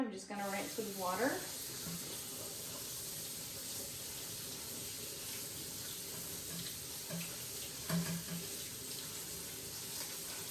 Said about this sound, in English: I'm just going to rinse with water.